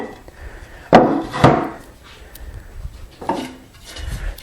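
Hand plane working the edge of a board on a Nicholson English-style workbench, with two loud, close strokes, a quieter scrape after them and a soft rustle of handling.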